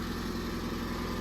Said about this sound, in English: here she is running. It idles pretty nicely.